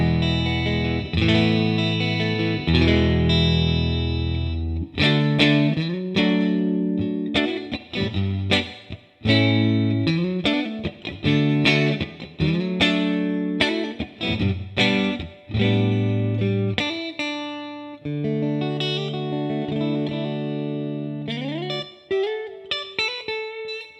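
An electric guitar fitted with BST-2 pickups plays a phrase on the center pickup, giving a clean, bright single-note line with chord stabs and some chorus-like shimmer. No one talks over it.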